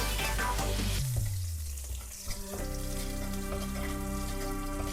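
Potato curry frying in a pan with spice powder, a steady close crackling sizzle that briefly softens and then returns to an even, continuous fry.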